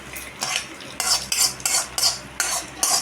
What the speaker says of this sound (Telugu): వేగిందండి, ఇదంతా తీసేసి ఓ గిన్నెలో తీసేసుకున్నాం